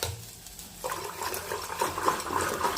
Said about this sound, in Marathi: त्यात आपण आता पाणी घालूयात 1 ग्लास.